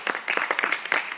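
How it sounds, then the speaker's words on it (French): A small audience at a French talk on bees and flowers claps briefly, a short run of distinct hand claps from a few people, moderately close and uneven in rhythm. "On peut applaudir?"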